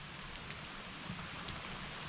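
Steady rain falls outside a campsite in the Adirondacks during a canoe camping trip, a constant broadband patter of drops on surfaces with no pauses, moderately loud and unbroken for the whole stretch, with no voices.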